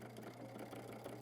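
A sewing machine runs steadily while topstitching along the bottom hem edge of a pair of pants, giving a continuous close, quiet mechanical hum with a fine rapid needle rhythm throughout.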